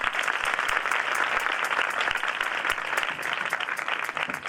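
Church congregation clapping for Jesus Christ during an Urdu/Hindi sermon, dense sustained applause from many hands filling the room, steady and loud throughout.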